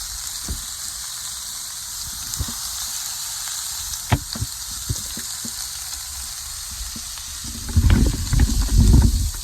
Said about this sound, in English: Frying up really well.